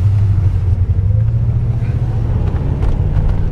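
A 1985 Mercury McLaren ASC convertible cruising at about 35 to 40 mph on a test drive, heard from inside as a loud, steady low engine drone and road rumble with no talking.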